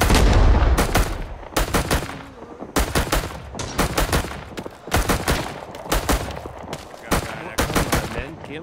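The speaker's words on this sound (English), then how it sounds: "MGs laying out press fire while everyone else moves" Machine gun fire in the video game Rising Storm 2, with loud, dense bursts of rapid automatic shots and some overlapping distant gunfire filling the whole stretch, without speech.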